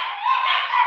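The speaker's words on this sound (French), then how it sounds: "Ah, attends, mais les chiens ont quoi?" Dogs bark and yelp in a single short, loud burst, heard alone without talk.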